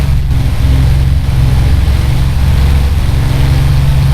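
A Supermarine Spitfire Mark I's piston engine drones steadily in a climb in a flight simulator, a loud, constant low-pitched roar that holds at one level throughout with no voices.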